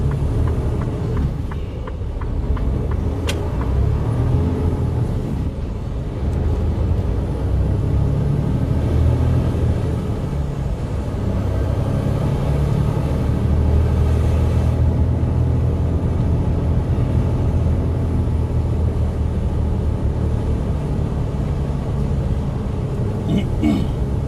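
A truck's engine rumbles low and steady from inside the cab while it drives along a road, a continuous drone running beneath people chatting throughout.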